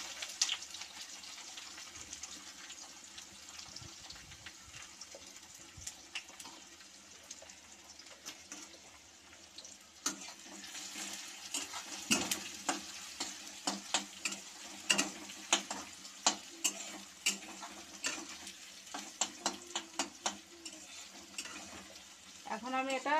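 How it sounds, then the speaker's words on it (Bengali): Chopped onion and green chili fry in oil in a wok, giving a faint sizzle that grows busier and louder over time, broken by frequent sharp clicks and taps of stirring, with no clear talk. "এরপরে পেঁয়াজ আর কাঁচা লঙ্কা কুচি দিয়ে দিলাম।"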